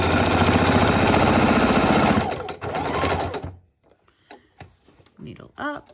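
A sewing machine stitches a reversible fabric coffee cozy with a loud, steady close-up whir for about two seconds, then short bursts as it stops and starts while the corner is pivoted, with someone talking between runs.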